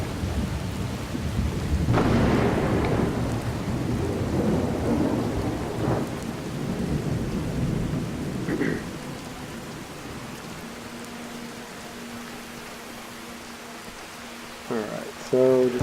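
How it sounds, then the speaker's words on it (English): A thunderstorm in Skyrim Special Edition brings steady rain with rolling thunder rumbling loudly early on, then easing into softer rainfall while a voice talks intermittently over it. "So just kind of riding around in the rain. Yeah, these the true storms."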